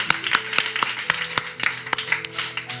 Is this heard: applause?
yes